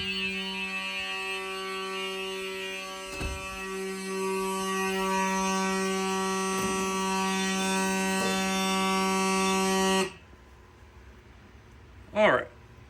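Edwards 892 and 895 fire alarm horns blare a steady, harsh electric buzz for about ten seconds, loud and close, then cut off abruptly; a short voice is heard afterward.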